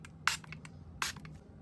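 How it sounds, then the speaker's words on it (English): Two short hissing bursts of rubbing alcohol sprayed from a bottle onto freshly done gel manicured nails, close and fairly quiet, about three-quarters of a second apart with faint room tone between. "I just like to spray some rubbing alcohol to set it all in."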